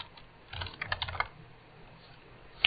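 Quick bursts of typing on a computer keyboard, soft clustered keystrokes followed by a pause and a single final tap, close and fairly quiet.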